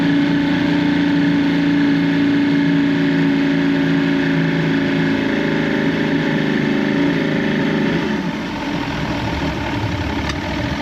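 An Evinrude 150XP outboard motor on a McKee Craft boat, suffering a loss of power, runs continuously with a steady droning hum, loud and close, its pitch wavering slightly as it idles.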